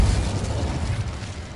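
Spells cast in the Hogwarts Legacy video game give off a dense, booming magical rumble with a fiery roar that stays loud and continuous throughout.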